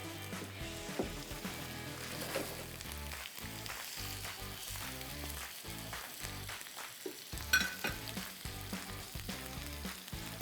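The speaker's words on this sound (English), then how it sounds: "You can hear the sizzling sound." Salmon sizzles steadily in a hot frying pan, close and continuous, with a faint rhythmic background underneath.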